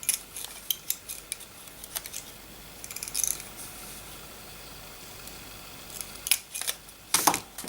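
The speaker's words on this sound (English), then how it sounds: "measure that. Cut them holes out." Scissors snip holes out of a piece of embossed card, with quick clusters of sharp cuts at the start and end and a quieter stretch of handling in between.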